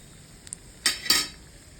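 Cashews and urad dal fry in a pan for bisi bele bath while a utensil stirs them, making a couple of faint clicks followed by two louder scraping rattles over a soft sizzle.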